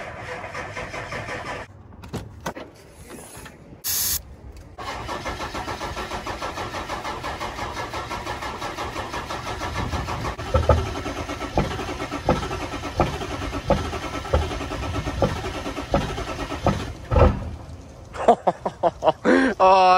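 A Ford pickup truck engine cranks with a few clicks, then catches and runs, its idle rising and revving with sharp bursts toward the end, close by, with a little talk around it.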